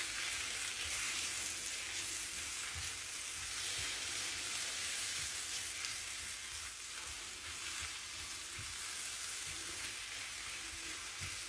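Beetroot tossed with chili flakes and fennel powder fries in a hot pan, giving a steady, even sizzle and hiss that runs throughout with faint stirring and no talk.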